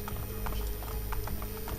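Hooves clip-clop steadily at a gallop in Assassin's Creed Brotherhood, a rhythmic series of soft thuds over a low game hum, faint and even throughout.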